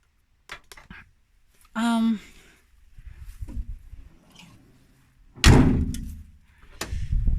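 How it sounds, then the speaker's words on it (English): A vehicle's sliding door rolls along and shuts with a solid, heavy slam, surrounded by scattered clunks, thumps and a brief squeak as it is handled up close. "Sliding door."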